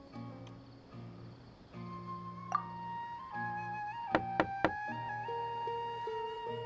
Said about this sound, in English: Let's try knocking.